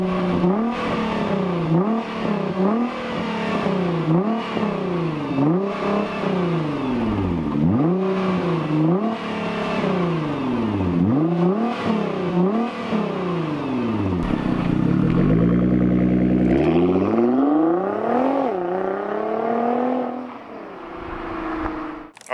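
Nissan GT-R engine pulling hard at full throttle, loud and close, with repeated rising revs and quick gear-change drops in a rhythmic sequence before easing off near the end.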